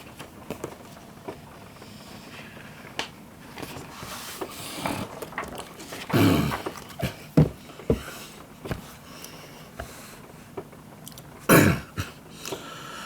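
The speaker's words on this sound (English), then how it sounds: "Sorry, just clear my throat." A person clears their throat in a few harsh bursts, the two strongest far apart, among faint shuffling and rustling.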